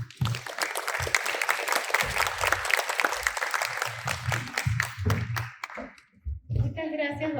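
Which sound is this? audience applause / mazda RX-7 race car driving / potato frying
audience applause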